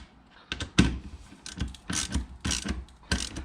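Mechanical clicks and ratcheting from a tool tightening a Z Speed Performance solid shifter in a car, several loud close bursts in uneven rhythm with short pauses between, no talking.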